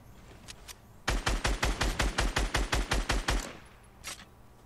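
Rapid burst of automatic gunfire in the Fortnite battle royale game, about fifteen evenly spaced loud shots over two seconds, with a couple of fainter shots before and after.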